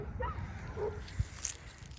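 Neighbours' dogs barking in the background near a chicken farm, a few faint, scattered barks and yips at a distance under low outdoor noise.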